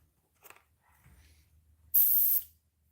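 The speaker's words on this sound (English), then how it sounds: "That's airbrush." An airbrush bursts into a short, loud hiss of spray while paint is being applied to a fishing lure, after a couple of faint clicks and handling noises. It cuts off after about half a second.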